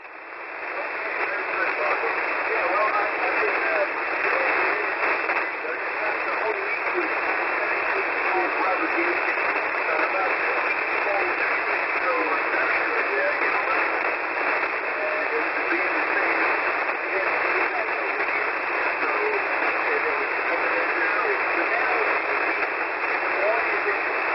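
Amateur radio on the 10 meter band comes through a receiver as a steady, band-limited hiss of static, with faint voices of distant stations buried in the noise for the whole stretch.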